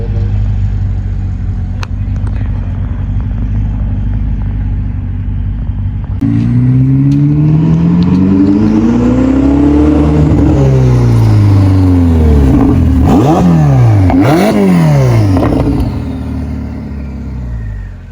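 A flood-damaged Ferrari 488 idles with a deep, steady rumble, then its engine revs repeatedly, the pitch climbing and falling in several swelling sweeps before settling back, loud and close.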